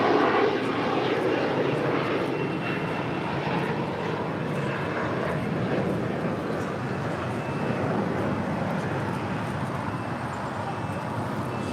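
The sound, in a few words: Boeing 787-9 Dreamliner landing, arriving from Tokyo Narita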